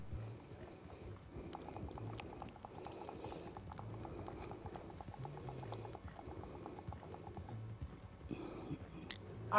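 A horse pulling a wagon on a street clip-clops in a steady, rhythmic series of hoof strikes, close and clear against quiet background noise.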